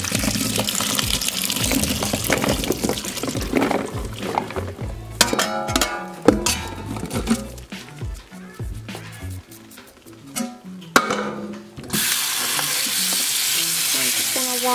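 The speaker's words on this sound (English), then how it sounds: "So I'm just gonna throw them in here and start rinsing them off." Hominy for pozole being rinsed in water in a kitchen, with splashing, running water and clattering stirring noises that come and go, then a steady rush of tap water near the end.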